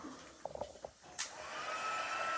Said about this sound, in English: So this is our heat tool. I'm just turning it on to the highest setting.